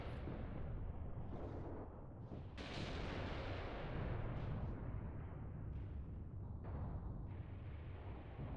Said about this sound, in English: Artillery is impacting the Soviets over here.